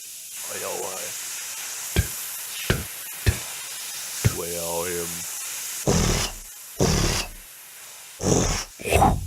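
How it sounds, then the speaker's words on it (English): In the Hidden Folks video game, a waterfall gives a couple of short rising-and-falling growls, mixed with sharp clicks and loud bursts of rushing, hissing noise. "Was that waterfall growling at me?"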